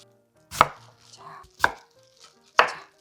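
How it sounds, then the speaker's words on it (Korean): A knife slicing radish into roughly 1 cm thick pieces on a cutting board: three distinct, sharp chops about a second apart, close and clear, with quiet pauses between. "검지손가락보다 좀 얇은 정도의 두께로 썰어 주시면 돼요"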